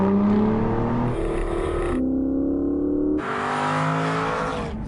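Aston Martin Virage engine revving hard through its gears, loud and close, with rising pitch sweeps broken by quick shift pauses, no voices over it.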